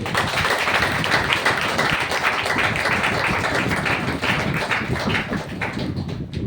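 An audience at a seminar claps in dense, sustained applause, steady and fairly loud throughout, fading slightly toward the end, with no talk over it.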